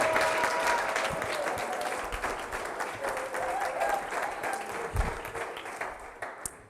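Audience at an invention and innovation awards demo day applauds steadily throughout, a dense sustained wash of clapping welcoming a speaker, with scattered cheers and hoots rising above it.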